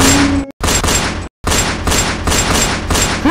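Sustained fusillade of gunfire from several weapons firing at once, loud and dense, with two brief gaps where the shooting cuts out before resuming as a continuous volley.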